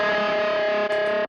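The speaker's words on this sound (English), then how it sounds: "I also engaged the lo-fi pedal, I'm pretty sure." A guitar chord rings through a lo-fi effects pedal with the bass stripped out, sounding thin and distorted, sustaining for about a second before cutting off abruptly, from a mix of a song.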